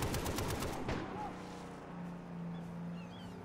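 A quick burst of rapid gunfire in the shooter game Far Cry 3, sharp repeated shots in the first second, then fading into a low engine-like drone with quiet background ambience.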